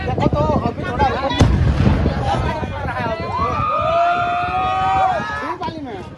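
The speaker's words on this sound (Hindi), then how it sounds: "गैस की धमाका फट रहा है भाई।" Explosions from a gas cylinder blast on a highway in Chhattisgarh boom amid loud crackling bursts and crowd noise, with people shouting and talking throughout.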